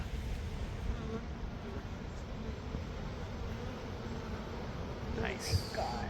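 A swarm of bees drones two stories up, a dense, steady buzzing that fills the whole stretch at moderate level, with brief soft voices near the end.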